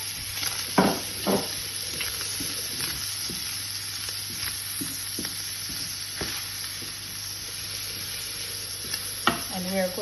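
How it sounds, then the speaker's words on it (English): A bacon, onion and courgette mixture frying in a pan, a continuous sizzle broken by occasional scraping and stirring clatters, with no voices. "we are going to fry this for a couple more minutes until the onions are cooked through"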